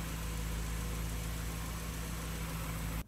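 A car motor being prepped runs at a steady, low idle, a constant even hum with a faint mechanical tick, close and unbroken until it cuts off abruptly at the very end.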